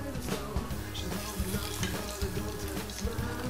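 Egg-soaked bread slices for rabanada fry in oil in a pan, giving a constant crackling sizzle with small irregular pops, close and steady throughout.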